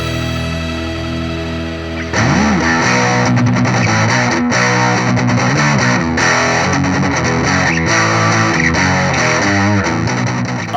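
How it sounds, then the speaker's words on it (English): Electric guitar driven through a TC Electronic Magus Pro high-gain, RAT-style distortion pedal in the mini format: a quiet opening note, then loud, sustained, saturated chords and riffs played alone. "This is the new Magus Pro high gain distortion pedal from TC Electronic."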